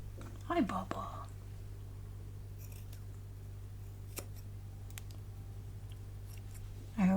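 A few quiet snips of scissors close by, against a low steady hum, with brief soft voice sounds.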